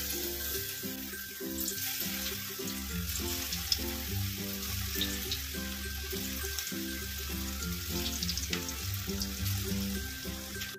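Cabbage pakoras fry in hot oil in a wok, giving a constant close sizzle and bubbling hiss that holds steady throughout, alone without any talk.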